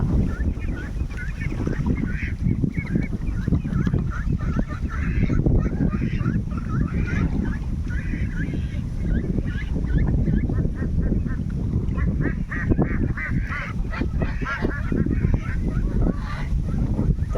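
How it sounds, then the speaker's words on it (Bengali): A flock of domestic geese honks steadily by a river, a dense, continuous chorus of overlapping calls at moderate distance with no pauses. "ওই যে রাজহাঁসগুলো বাড়িতে যেতেছে"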